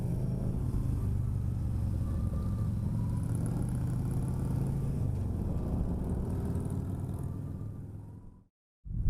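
Motorcycles on a group ride climb a gradual hill toward Julian, California, a steady low engine rumble mixed with wind that holds for several seconds before dropping out near the end.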